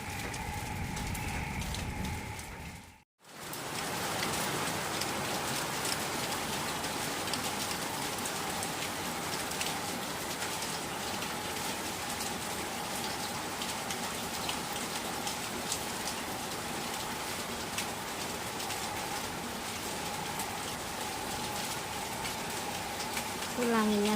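Steady rain pours onto surfaces in a village, a dense continuous hiss with a brief dropout near the start, while pigeons or doves coo softly in the background.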